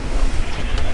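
Strong wind of around 27 knots gusting to 30 at sea aboard a sailboat beating upwind with a second reef, a loud continuous roar of wind buffeting and surf wash with no talk.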